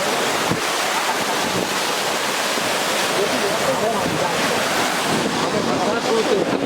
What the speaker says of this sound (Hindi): यह है भागीरथी नदी।